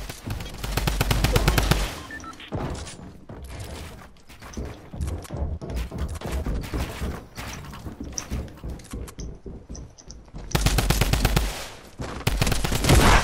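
Drum gun firing in Fortnite: rapid, loud bursts of automatic fire, one long burst at the start and another near the end, with scattered shots and game noise in between.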